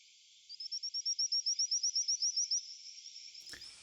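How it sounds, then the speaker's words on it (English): Frog calls played from a recording: a rapid series of about fifteen bright, high, evenly spaced chirping pulses that ends in a softer trailing buzz, followed by a brief click. "So these are frogs that are making this sound."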